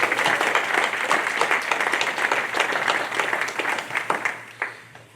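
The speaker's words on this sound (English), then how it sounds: "Let's give them a round of applause." An audience at a State of the City address in Oak Park breaks into sustained applause, dense steady clapping that thins out and fades near the end.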